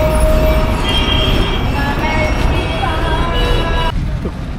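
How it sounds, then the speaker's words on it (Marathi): A passenger train running from Trivandrum toward Kollam Junction in Kerala rumbles loudly and steadily from inside, with continuous rolling noise and faint high metallic tones over the din. "ट्रेन चालू होते."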